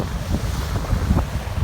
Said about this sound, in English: It's very, very, very windy.